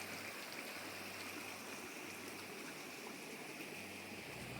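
A small river flows through a valley among hills and tea gardens at a campground in Bandung, making a constant broadband rushing and trickling wash that stays even throughout, with no voices.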